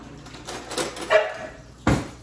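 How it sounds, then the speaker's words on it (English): A dog barks twice in a home kitchen while butter is being used for cooking, one sharp bark near the middle and a louder close bark near the end, over faint room noise. "He's starting to bark."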